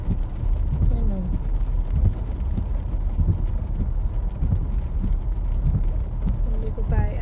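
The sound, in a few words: car windshield wipers running nonstop in heavy rain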